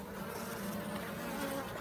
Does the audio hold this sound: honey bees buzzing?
yes